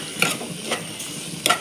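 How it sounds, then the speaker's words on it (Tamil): Onions sautéing in a pan with salt, turmeric, coriander powder and biryani masala, a soft steady sizzle punctuated by a few sharp scraping stirs of a spoon against the pan. "நல்லா வதங்கட்டும்."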